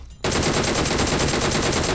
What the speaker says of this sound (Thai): เสียงปืน อยู่ทางซ้ายตรงบ้านหรือเปล่า